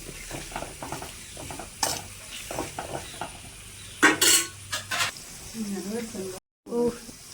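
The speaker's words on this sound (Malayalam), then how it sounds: "അതേ ഉപ്പിട്ട് ഞാനൊന്ന് ഇളക്കി കൊടുക്കുന്നുണ്ട്." Chicken curry with salt being stirred in a pan, with clinks and scrapes of a utensil against the pan over a low sizzle, some louder knocks midway, and a voice talking in between.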